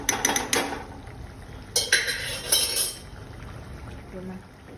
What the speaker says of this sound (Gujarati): આપણી જે બાફેલી દાળ છે તે ઉમેરી દો